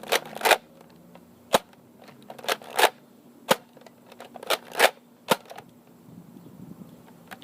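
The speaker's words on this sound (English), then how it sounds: "So, 8 darts. We're going to fire flat shots." Nerf Elite Ruckus CS8 blaster firing eight foam darts in flat shots, sharp close snaps arriving one after another in an uneven rhythm over a quiet background.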